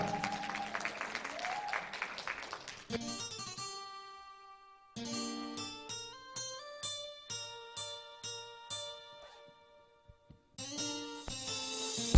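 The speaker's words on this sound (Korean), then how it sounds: "여러분 큰 박수를 함께 해주시면 감사하겠습니다" Audience applause rises at a saxophone concert in a hall, a burst of clapping that fades. Piano notes follow in a spaced, sparse pattern, and applause swells again at the end.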